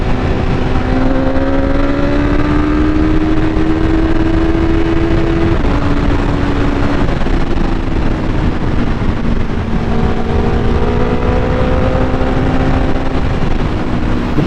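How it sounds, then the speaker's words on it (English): A BMW S1000R naked motorcycle rolls on in third gear, its engine note rising steadily and loudly against constant wind roar, heard up close from the rider's position with no talk. "there, just a third gear roll on"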